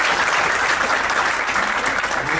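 An audience applauds a guest speaker at a campus conversation event, with steady, dense clapping filling the room from start to finish.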